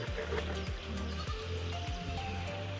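Cold water is poured onto soil in a basket for village salt mining, a continuous trickling pour with small splashes, close by, alongside a steady low rhythmic hum in the background.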